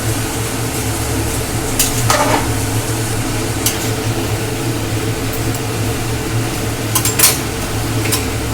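Fish head chhyachra with torn greens and vegetables being stirred in a pan, with a steady low hum and gentle sizzle beneath occasional scraping strokes of a spatula against the pan.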